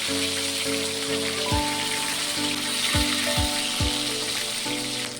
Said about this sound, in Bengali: মাছের মাথাটা একটু ভাজা হয়ে গেছে, উল্টে দেবো।